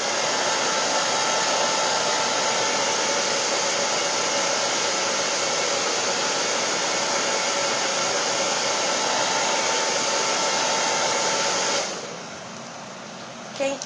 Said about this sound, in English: blow dry it